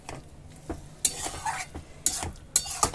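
Pumpkin and potato pieces being stirred with spices and a splash of water in a pan, a spoon scraping and knocking against the metal in several sharp strokes over a faint sizzle, close and fairly loud.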